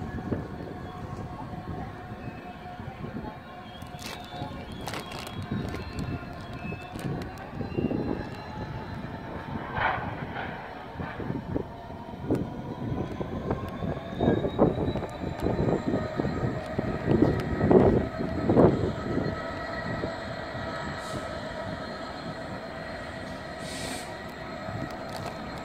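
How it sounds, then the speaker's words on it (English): A Class 66 diesel locomotive shunts in a railway yard at Westbury, its engine a steady low rumble under drawn-out wheel squeals and clanks of wagons, building slightly louder toward the end. "So this 66 has been shunting in the yard all morning."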